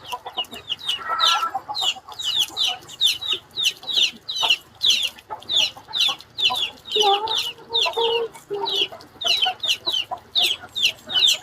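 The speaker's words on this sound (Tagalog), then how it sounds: "Daming manok. Oo, madaming manok" Several chickens cluck repeatedly in a busy farmyard chorus, sharp clucks overlapping one another at close range, with a rooster-like call mixed in.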